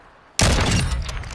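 A single sharp gunshot in Call of Duty: Modern Warfare 2 cracks in abruptly after a brief near-silence, followed by a loud, ringing tail and scattered battle noise.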